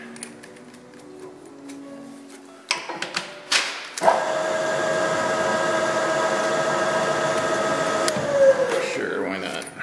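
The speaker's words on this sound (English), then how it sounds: "While I'm on that hole, I'm going to go ahead and smack a chamfer on it." A drill press or mill chamfers a drilled hole in a metal handwheel, a few clunks and then a steady high whirring hum that holds for about four seconds before winding down.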